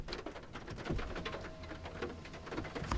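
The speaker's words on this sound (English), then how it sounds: "It's starting to rain." Rain starts to fall on a parked vehicle and makes a steady, soft patter of scattered drops against the body and windows, with no talking.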